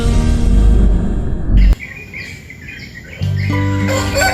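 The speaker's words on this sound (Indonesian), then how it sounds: "sekumpulan burung yang berkicau" Many birds chirp and tweet together in a steady, dense chorus, heard alongside a loud continuous background hum.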